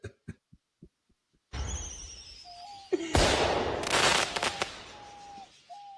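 An M80 firecracker blast plays back as a sudden, loud burst of broadband noise with a few sharp cracks, preceded by faint ticking and followed by a dying rumble and brief tones.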